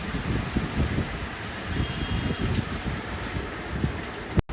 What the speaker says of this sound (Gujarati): જો વરસાદ ચાલુ